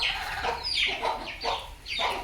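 Hens and their chicks cluck close by outdoors in a farmyard, with soft repeated clucks and thin chirps rising and falling over a couple of seconds. No speech.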